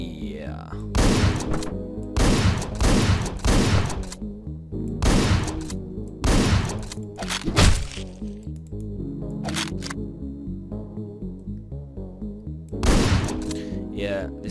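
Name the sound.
gunshots in Hotline Miami 2 video game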